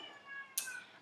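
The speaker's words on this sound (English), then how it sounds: "You can probably hear there's like a neighborhood cat outside making noise." A single short cat meow, faint and distant, heard once against a quiet background.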